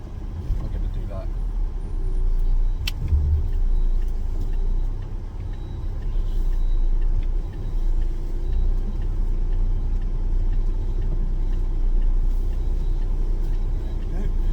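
A brand-new 2024 transporter truck rumbles steadily as it reverses down a road, with low engine drone throughout, a brief sharp hiss near the start and people talking over it.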